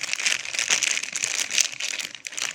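Cardboard and packing material crinkle and rustle continuously up close while a NerdBlock Classic subscription box is unboxed, with no talking.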